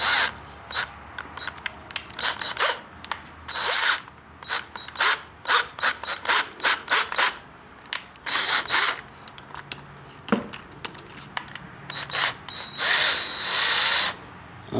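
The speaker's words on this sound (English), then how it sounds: "Now we're gonna drill out the bolt, or the bolt hole." A power drill with a quarter-inch bit drills out a stripped bolt hole in short, sharp bursts of whirring metal grinding, stopping and restarting repeatedly.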